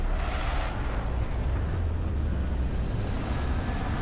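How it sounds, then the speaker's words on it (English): Spaceship retro thrusters fire during a landing in the Starfield video game, a loud continuous low roar with rumbling bass that holds steady throughout, with no voices over it. "Landing struts primed. Retros firing."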